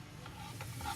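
Garlic and onions in olive oil with truffle make a quiet, close sizzle, with stirring scrapes in a brief stretch and no voices.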